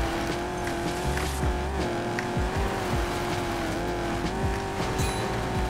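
A car drifts in Need for Speed Payback (2017) during the Castrol Edge Titanium Trials event: a loud, sustained engine drone with repeated tire squeals and skids, and no voices.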